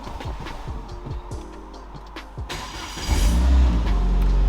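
A Renaultsport Megane 225 with a lightweight flywheel and a missing grille starts up: a few soft cranking clicks give way to a loud, steady low engine idle that fills the rest of the clip.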